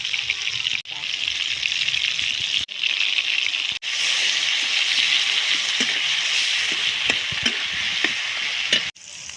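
Ground spice paste frying in hot oil in a village-style kitchen: a loud, continuous crackling sizzle with stirring, broken by a few short cuts. A voice is faintly present at times.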